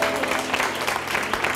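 An audience in a 1989 fitness programme studio breaks into brief, dense applause, with clapping heard close and continuous for a moment.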